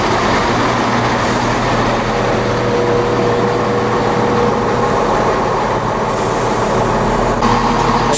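A ScotRail train pulls away from Linlithgow station, a loud, continuous rumble and low engine drone close by, with rail noise steady throughout and a faint higher squeal drifting in.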